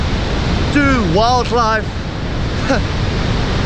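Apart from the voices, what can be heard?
Augrabies waterfall in flood, South Africa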